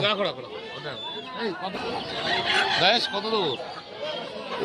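Desi (country) chickens clucking and squawking close by in a busy village poultry market, with people talking over the birds throughout.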